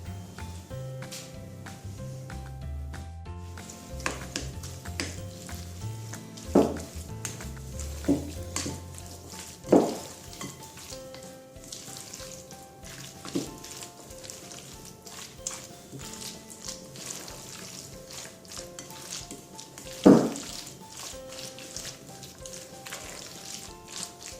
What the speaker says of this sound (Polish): a następnie wszystko mieszamy.